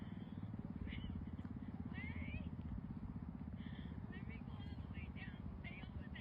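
A learner rides a 125 cc motorcycle outdoors; a faint, steady engine drone runs throughout, with brief high chirps over it.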